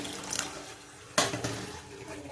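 Water is poured into egg masala simmering in a pan, heard as a short splash midway through, with faint kitchen noise before and after.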